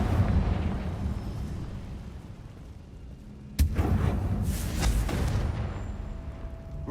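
A Confringo blasting spell bursts in the Hogwarts Legacy video game, a sudden loud boom cutting in midway over rumbling game ambience, followed by a second rolling blast.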